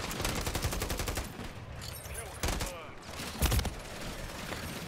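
Dense, continuous video game gunfire as a player shoots into their own team, loud rattling bursts with a few heavier shots standing out and some talk mixed in.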